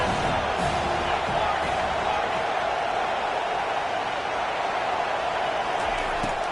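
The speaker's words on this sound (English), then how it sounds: "the crowd really getting into it" Stadium crowd at a football game roaring steadily through a third-down play, a dense, continuous wash of cheering and shouting that stays loud throughout with scattered whoops rising above it.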